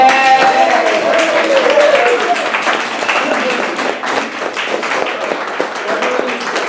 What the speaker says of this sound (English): So let's give Guillermo a round of applause